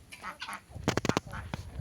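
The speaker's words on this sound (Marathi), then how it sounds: "हे गिनी फॉल म्हणतात त्यांना" Rapid burst of harsh, cackling bird calls, guinea fowl chattering loudly at close range amid softer scattered clucks and calls.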